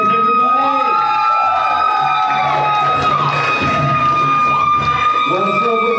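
Comedy club crowd at a stand-up show cheers and whoops for a comedian, with steady loud applause beneath excited shouting voices.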